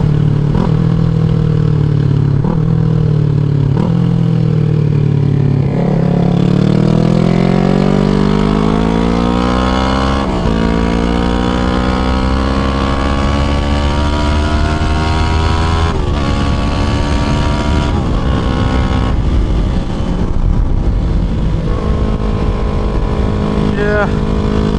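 A motorcycle engine close by, its pitch climbing and falling as the rider accelerates and shifts through gears, with steady wind rumble underneath.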